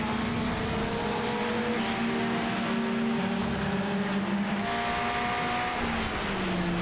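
GT race cars lap Donington Park National circuit in a UK GT round, engines droning loudly and steadily, with pitch rising and falling through gear changes as several cars run close together.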